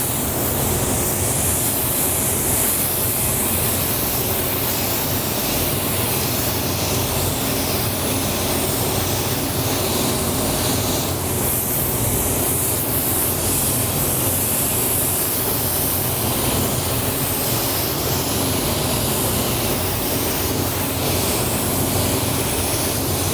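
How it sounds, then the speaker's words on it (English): Paint spray gun laying down a first coat of candy paint on a car hood, a steady continuous hiss held for the whole stretch, loud and close with no talking. "I'm going to start spraying."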